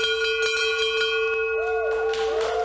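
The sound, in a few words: bell rung by Eagle Scouts earning their rank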